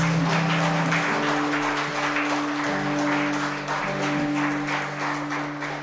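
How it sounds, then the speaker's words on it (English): A church congregation at a praise and worship gathering claps steadily for Jesus, the dense clapping running throughout over a held instrumental or sung tone. "Let us give a big clap for Jesus."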